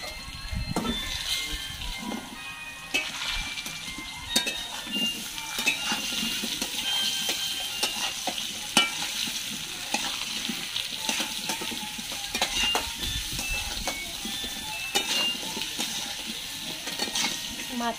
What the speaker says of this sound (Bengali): আলু কটা ভেজে নেব মাছে।